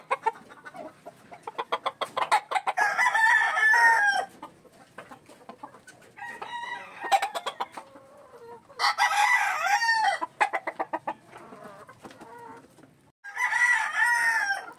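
Young roosters (stags) in a hatching flock crow loudly several times, in long strained calls, between short bursts of clucking close by, with no talk.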